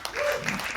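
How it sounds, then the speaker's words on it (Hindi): Enthusiastic applause from an audience at a live poetry open mic, a brief burst of dense clapping with a few cheers, fairly close and loud. "हमारे बहुत प्यारे कपल के लिए जोरदार तालियां"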